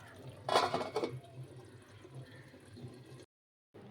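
Curry scraped from a pot into a bowl, with a brief burst of metal clattering and clinking near the start, followed by quieter scraping and a short silent gap.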